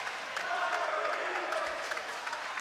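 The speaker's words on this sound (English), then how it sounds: "Boys are getting into it now too, cheering along." Boys cheer along at a Maple Grove at Centennial boys swim and dive meet during a relay, a steady wash of crowd noise and cheering that holds evenly throughout.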